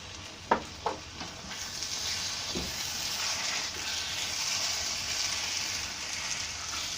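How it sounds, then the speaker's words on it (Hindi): Mashed potato bharta frying in a pan as lemon juice goes in, a couple of sharp knocks of a spoon at the start, then a steady close sizzle and stirring. "अब मैं इसमें ये लेमन जूस शामिल कर रही हूँ"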